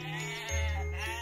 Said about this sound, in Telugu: మూడు మేకలు గట్టి గట్టిగా నవ్వుతూ ఉంటాయి